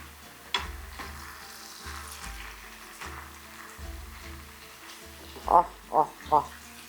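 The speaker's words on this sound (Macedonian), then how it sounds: "Нека си се пржи уште 15 минути" Sauerkraut and bacon sizzle steadily in a hot pan, releasing water, with a few stirring scrapes. Three short, louder bursts come near the end.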